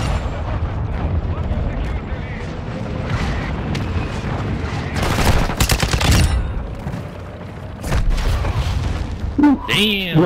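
Gunfire and explosions in the video game Call of Duty MWII, a dense run of loud bursts and booms across the whole stretch, with voices talking over the game.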